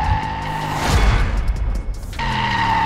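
Rear tyre of an Aprilia RS 457 sport motorcycle sliding briefly, a short hissing scrub rising over the steady whine of the revving engine, which holds a clear tone before and after.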